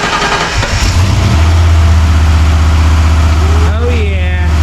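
Foxbody Mustang Cobra V8 cranking and catching on its first start, then settling into a loud, steady, close-up idle with a brief rev, with a voice heard faintly near the end.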